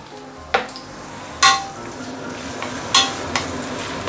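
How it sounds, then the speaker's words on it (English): Ginger and green onion frying in hot oil for a milky fish soup, a soft steady sizzle with a few sharper stirring scrapes and clatters of the utensil against the pan, close by and without talk. "we want to flavor the oil with the ginger and green onion flavor"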